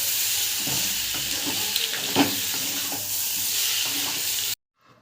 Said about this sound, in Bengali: এবারে আমি দিয়ে দেবো ডিমের কুচোগুলো, দিয়ে এইগুলো দিয়ে আমি বেশ কিছুক্ষণ নাড়াচাড়া করে নেব।